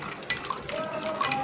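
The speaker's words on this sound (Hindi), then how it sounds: "साथ में चम्मच चलाएंगे।" A metal spoon stirring mango sharbat made with sugar and cold water in a glass, light clinks and swirling liquid in short irregular taps, close and fairly quiet.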